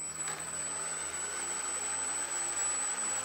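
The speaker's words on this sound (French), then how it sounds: "je peux passer sur le switch position vert, et ça va démarrer notre hélicoptère." An E-flite Blade 150 FX RC helicopter's electric motor starts up with a steady high-pitched whine, holding level with slight shifts in pitch, heard close and alone.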